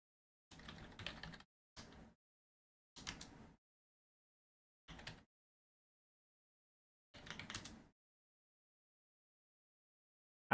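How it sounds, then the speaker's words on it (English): Quiet computer keyboard typing comes in five short, separate bursts of clicking, with silent gaps between them, during a New Player Tournament session. "you might as well see what I'm typing"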